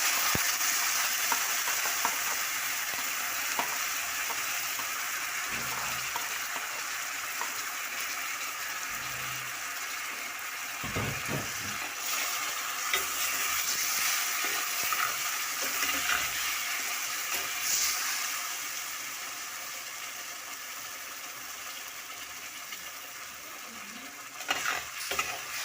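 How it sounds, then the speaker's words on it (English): Blended tomatoes and garlic sizzle and fry with cooked onions in a pan while being stirred for creamed kunde, a steady close hiss with occasional scraping, no voices. "I blended my tomatoes and my garlic. So I'm going to stir it."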